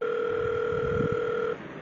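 A steady telephone dial tone sounds while a call is placed to an electrical substation, holding level for about a second and a half before cutting off abruptly.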